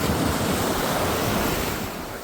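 Ocean waves break on a beach at Marbella in a loud, continuous roar of surf, with wind buffeting the microphone and no voices.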